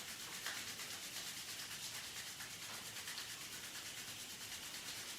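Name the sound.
rubbing palms of the hands together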